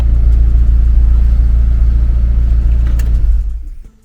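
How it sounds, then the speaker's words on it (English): A Honda CR-V with a B-series engine on solid mounts idles with a low, steady, slightly rattly drone, then falls away as the engine shuts off near the end. "It's still rattling a little bit loud because it's got the solid mounts, but there's no more idle fluctuation"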